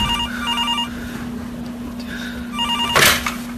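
A telephone rings with a repeating electronic trill, two ring bursts at moderate loudness over a steady low hum, followed by a brief clatter as it is picked up.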